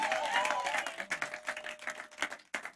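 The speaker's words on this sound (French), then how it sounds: "Est-ce que quelqu'un peut donner une main d'acclamation à notre Dieu?" A church congregation claps and cheers in praise, fairly faint and uneven, with bursts of clapping, a held tone early on and crowd noise tapering off toward the end.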